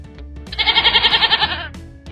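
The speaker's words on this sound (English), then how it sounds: "It's a goat." A goat lets out one loud, close, wavering bleat with a rapid quivering pulse, lasting about a second, framed by quieter background sounds.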